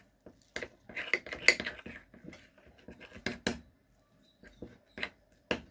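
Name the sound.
stirring lemon, alum and rose water mixture in a bowl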